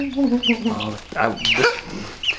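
A large chicken on a home flock clucks a few times, short rising calls close by, with background voices and handling noise around it.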